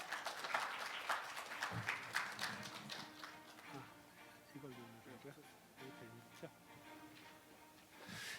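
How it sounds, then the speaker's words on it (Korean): Scattered applause from a conference audience in the COEX Grand Ballroom in Seoul, welcoming a robotics company presenter at the 2022 Robot Future Strategy Conference. Quiet clapping in the first seconds gives way to someone speaking. "여러분, 대표님을 큰 박수로 환영해 주십시오"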